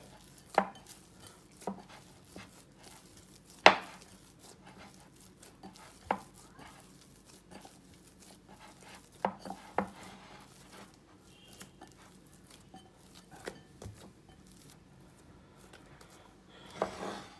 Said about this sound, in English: let me just knead this for 2 to 3 more minutes